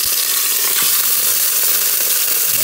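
Beef oxtail, about 1.2 kg and trimmed of fat, fries in a pan with a loud, steady sizzle and crackle that runs the whole time with no talking.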